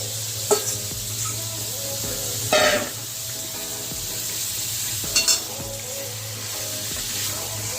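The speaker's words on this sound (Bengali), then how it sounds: "এবারে মাংসটাও আবার ভালো করে কষতে হবে" Mutton coated in onion, turmeric and mustard oil fries with fried spices in a pan, a steady close sizzle with a few separate scraping stir strokes spaced a couple of seconds apart.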